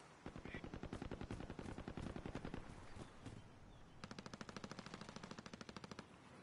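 Rapid automatic gunfire in a first-person shooter match, long bursts of repeated shots with a brief pause, then a second sharper burst, loud and close.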